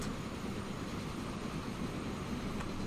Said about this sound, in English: Train going into the tunnel